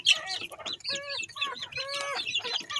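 Young chickens a little over three months old cluck and chatter in a lively, continuous chorus just before feeding, with overlapping calls and short squawks close by and no talking.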